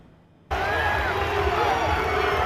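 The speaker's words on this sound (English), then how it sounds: "Listen to the crowd yelling his name" Large crowd at Miami Dolphins practice roaring and yelling quarterback Tua Tagovailoa's name, a loud sustained wash of voices that bursts in after half a second of quiet and holds steady.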